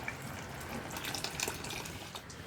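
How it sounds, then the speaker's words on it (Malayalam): Hot water is poured into a simmering ash gourd (kumbalanga) curry gravy, giving a steady, soft, close splashing and trickling wash that runs throughout, with no talk. "കുറച്ച് ചൂടുവെള്ളം ചേർത്തൊന്ന് ചുറ്റിച്ചൊഴിച്ചു കൊടുക്കാം"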